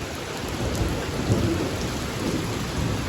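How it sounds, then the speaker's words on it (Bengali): Steady, dense heavy rain with a low rumble of thunder underneath during a Kalbaishakhi storm with lightning, continuous and close, no voices. "এই অনেক বৃষ্টি তুফান এবং বিদ্যুৎ চমকাইতেছে ঠাটা পড়তেছে"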